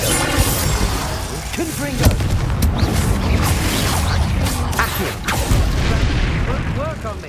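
Booming magical blasts from a Confringo fire spell in Hogwarts Legacy, several heavy impacts and crashes over a dense battle soundscape, with a voice shouting the spell name.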